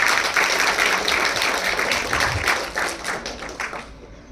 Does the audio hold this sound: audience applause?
yes